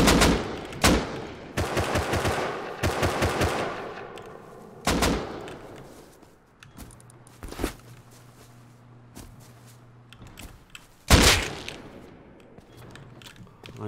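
Gunfire in the survival video game Rust: sharp, loud shots fire in rapid bursts and single cracks, with quieter gaps of background noise between volleys.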